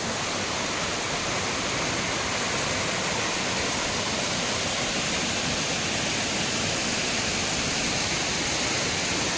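Bhairaghumar waterfall with flowing water, a loud, unbroken broadband roar of falling water heard close and steady throughout, with no talking.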